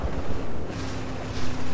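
A boat engine in the video game Battlefield 4: steady low drone with a faint hum, washed over by wind and water noise, continuous throughout.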